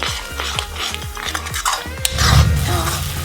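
Butter chicken masala being roasted in a pan gives off repeated scraping stirs, a regular spoon-on-pan rhythm, close and clear. A louder scrape and sizzle follow near the end, with no speech.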